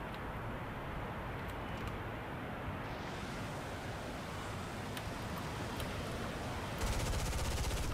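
Machine gun fire from an F-80C Shooting Star in War Thunder, heard as a steady roaring burst over continuous jet and wind noise, with a harsher rattle near the end.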